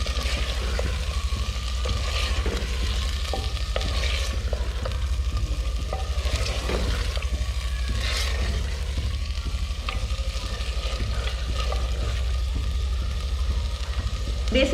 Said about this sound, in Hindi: अब इसको फ्राई करेंगे।